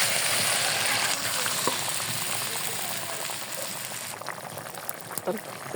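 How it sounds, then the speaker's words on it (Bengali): A pan of fish curry broth with pointed gourd and tengra fish boils and sizzles steadily up close, a dense bubbling hiss that fades slightly toward the end. "ঝোল আমার বলক উঠে গেছে"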